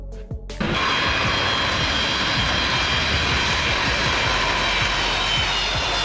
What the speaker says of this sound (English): a heavy transport aircraft designed and manufactured by Antonov. The N-124 is one of the largest cargo planes in the world